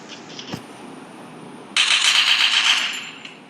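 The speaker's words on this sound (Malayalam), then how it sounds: "ആരോ വെടി വെക്കുന്നുണ്ട്" Gunfire near a house breaks out suddenly after a quiet stretch, a fast, crackling burst of rapid shots lasting over a second before dying away, preceded by a single sharp distant crack.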